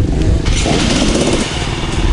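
A Kawasaki KLX 250 motorcycle engine runs up close, a loud continuous rough throbbing with no pause.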